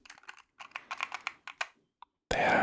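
Close, quiet keystrokes on a Wooting 60HE mechanical keyboard come in quick irregular bursts of clicks with short pauses, followed by a sudden loud, sustained burst of noise at the very end.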